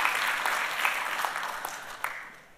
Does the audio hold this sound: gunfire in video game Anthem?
no